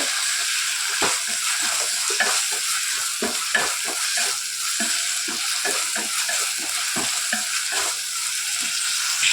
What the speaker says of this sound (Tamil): இப்போ தக்காளியும் சேர்த்து நல்லா வதக்கிடலாம்